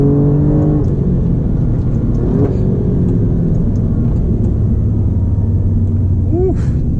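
An Alfa Romeo Giulia Quadrifoglio or BMW M850i slowing into the pits at Monticello, its engine a steady, loud rumble that drops to a lower, easing drone with a brief rising whine near the end.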